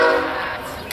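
Florida East Coast Railway charity train passing close by with a loud, sustained horn blast over the steady roar of the train.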